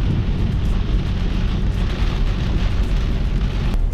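Heavy rainy-season downpour in Belize roars steadily and loudly, with a deep rumbling low end suggesting thunder, continuous and dense throughout with no voices.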